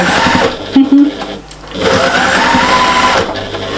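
A sewing machine stitches a patchwork and appliqué cushion seam, giving a close, steady mechanical whirr that pauses briefly for a pivot and then runs on, with faint talk underneath.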